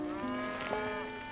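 A mini cow gives a single sustained, close moo with a steady, droning tone that holds for over a second.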